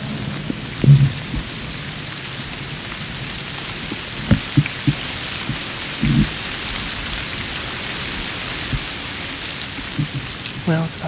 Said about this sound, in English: We're starting to get a little bit of light rain moving through